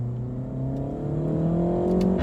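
A 2020 Renault Megane RS with its 1.8-litre engine, in sport mode, revs and pulls steadily through the gears, its tone climbing in a loud, continuous drone heard close up from inside the car.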